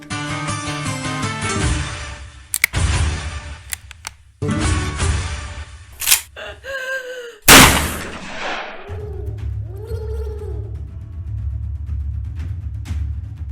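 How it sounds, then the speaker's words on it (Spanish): A pistol fired at close range as a dramatic sound effect: several sharp, loud bangs cut through a layered bed of tones and effects, with ringing and whooshing textures between the hits. "Barreda disparó al cuello de su hija menor, su favorita"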